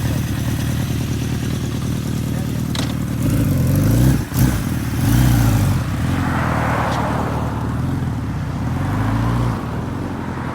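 A 1985 Suzuki GS1150E with its original exhaust runs close by, a loud steady rumbling idle with a quick blip of the throttle partway through before settling back.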